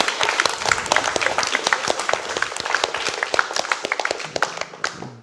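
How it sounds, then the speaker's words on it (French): A smaller audience claps for the organizers of a student eloquence contest, with distinct, close individual hand claps forming an uneven patter that thins out toward the end. "on peut les applaudir aussi."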